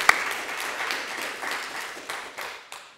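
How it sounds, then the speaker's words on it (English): A board of trustees meeting audience gives a short round of steady applause for a retiring colleague, a sharp clap at the start and the clapping thinning and fading out toward the end. "please join me in a round of applause for Ross"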